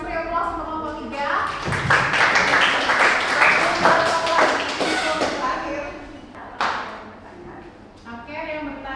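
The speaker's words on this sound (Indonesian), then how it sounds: "Beri aplaus untuk kelompok 3" A classroom audience applauds group 3 at a Hindu religious education session, with a burst of clapping and thumps that fades, overlapping people talking before and after.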